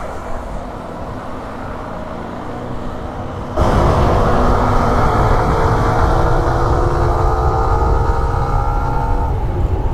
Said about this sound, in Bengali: দেখুন কি সুন্দর ট্রেন, যমুনা নদীর উপরে ট্রেন